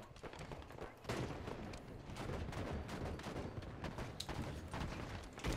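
Rapid bursts of battle rifle fire in the video game Halo 5: Guardians, dense and continuous with overlapping shots and explosions throughout, loud and busy with no clear pauses.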